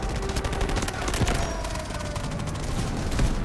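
Rapid gunfire in Delta Force Mobile chatters on through a busy mix of game sounds, with one sharper shot standing out in the middle.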